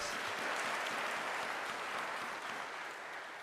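An audience at a University of Nairobi student recognition ceremony claps for donors, a continuous, even roar of many hands that holds at full strength throughout and eases slightly near the end.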